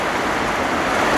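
Steady rain falls at a rural farmhouse setting, a dense unbroken hiss of downpour close by and fairly loud, with no voices.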